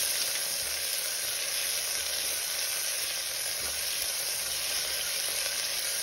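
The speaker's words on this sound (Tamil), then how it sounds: "சின்ன வெங்காயம் நல்லா டிரான்ஸ்பரண்டாக வர அளவுக்கு வதக்கிக்கலாம்." Small onions with curry leaves sauté in a pan, giving a constant, even frying hiss that runs unbroken from start to finish with no pauses.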